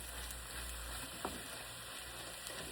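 Corned beef mixture with black pepper sizzling and being stirred in a frying pan, a soft continuous hiss with a couple of faint scraping clicks, quiet and without talk.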